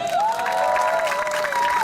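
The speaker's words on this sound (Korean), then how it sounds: "우리 MC 김종석 씨에게 박수 한번 주세요." An outdoor crowd at the start of the 5 km course of the first Suwon Marathon applauds and cheers for the MC, a continuous wash of clapping with a sustained voice carrying over it.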